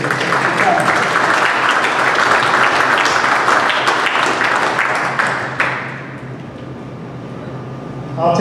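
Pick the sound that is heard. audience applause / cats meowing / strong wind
audience applause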